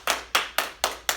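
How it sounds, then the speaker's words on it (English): A group of kids in a ninja-themed balance class clap their hands together in five sharp, evenly spaced bursts, fairly loud and close, with no talking. "Give yourselves a hand."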